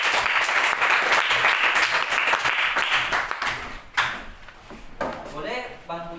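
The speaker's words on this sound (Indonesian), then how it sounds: "berikan tepuk tangan untuk dua kelompok ini" A classroom of students applauds loudly for two groups for several seconds, the clapping fading out, followed by a voice speaking and chairs or furniture shifting.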